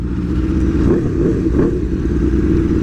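An Aprilia RSV4 Factory sport bike engine revs steadily and loudly at close range, a continuous throaty roar with slight rises and falls and no voices.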